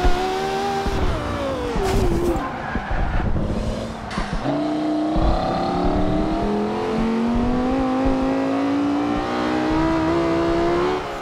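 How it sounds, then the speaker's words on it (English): A turbocharged Lexus LFA in the Forza Horizon 2 racing game pulls hard through the gears, its loud engine note rising, dropping at each shift, then climbing steadily with a high turbo whine layered on top. "Yeah, you can hear the turbos a little bit."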